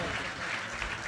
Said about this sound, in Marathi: सर्व साधू संतांचं एकदा टाळी वाजून स्वागत करा